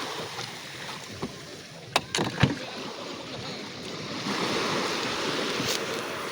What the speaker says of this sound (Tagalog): Na ano na ni Okwang ang bangka. Tinutulak na.